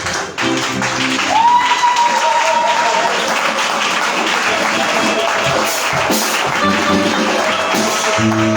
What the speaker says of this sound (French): Je voudrais donc sans perdre le temps que tu acclames le Seigneur